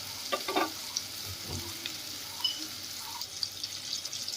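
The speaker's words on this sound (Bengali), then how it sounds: "গ্যাসটাকে লো টু মিডিয়ামে রেখে পেঁয়াজ টমেটোটাকে আমি একটু ভেজে নেব" Onion and tomato frying over a low to medium gas flame, a soft steady sizzle with faint stirring scrapes and a few brief clinks, close and fairly quiet, with no talking.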